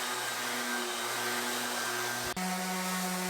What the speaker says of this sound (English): Here we are sanding down the cable tray